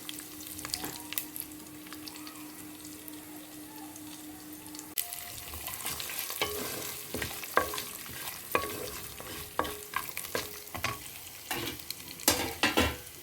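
Sesame seeds and spices fry in hot oil for a coriander chutney. A soft, close sizzle runs under a low steady hum at first, then gives way to a run of stirring clicks and scrapes, with no speech.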